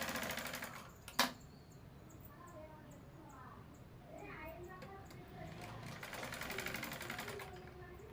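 A sewing machine runs quietly while stitching a blouse lining, a soft whirring that rises and fades over a low room hum, with a sharp click early on and faint speech in the background.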